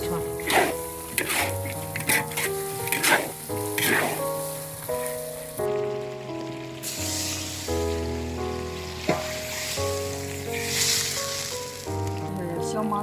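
Wok stir-frying of konjac tofu and other ingredients in a Chinese halal kitchen, loud oily sizzling with repeated scraping strokes of the spatula, under steady background music and intermittent talk.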